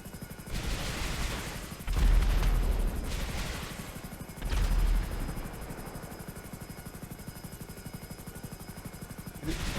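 A Hunter attack helicopter in GTA 5 Online gives a steady, loud rotor roar throughout, swelling twice with heavy bursts that sound like gunfire or explosions.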